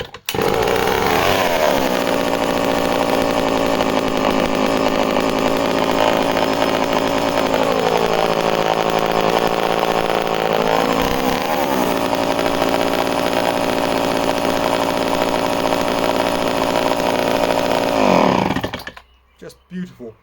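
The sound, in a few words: vintage chainsaw engine running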